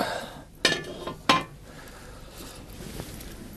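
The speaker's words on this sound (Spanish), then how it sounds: "vamos a echar las patatas" Potatoes dropped into a pot of Asturian pote stew, giving two sharp clinking splashes close by, then a faint knock a moment later, with no voices.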